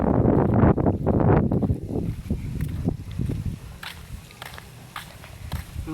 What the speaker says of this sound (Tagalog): Hangin na naman.